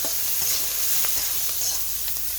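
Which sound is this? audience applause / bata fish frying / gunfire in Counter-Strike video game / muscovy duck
bata fish frying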